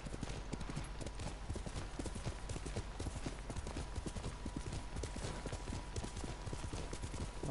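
Horse hooves in the video game Ghost of Tsushima, a steady, quick clip-clop that continues without a break at moderate loudness, with no one talking.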